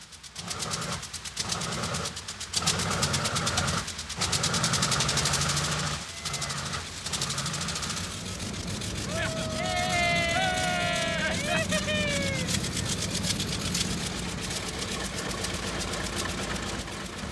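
A B-29 bomber's radial engine runs on a frozen airfield after its carburetor is adjusted, a continuous loud rumbling drone with rhythmic knocking beneath mixed crowd noise and voices.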